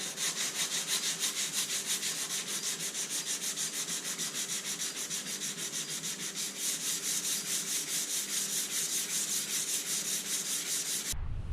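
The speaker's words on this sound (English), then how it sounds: "I'm going to get sanding these down" Steady, continuous sanding on coated parts for a 1993 Ford Bronco, a close, even abrasive rasp with a regular stroke rhythm that runs throughout and cuts off abruptly at the end.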